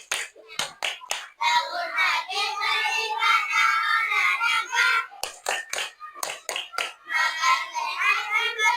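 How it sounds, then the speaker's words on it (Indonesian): A classroom of children performs the Indonesian 'tepuk anak Indonesia hebat' clap routine, with sharp rhythmic groups of hand claps alternating with loud chanted voices, close and lively. "Bu Guru minta tolong tepuk anak Indonesia hebat"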